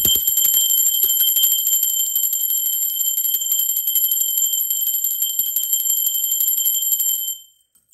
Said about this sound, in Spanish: la campana es una energía de alta frecuencia, una energía de portales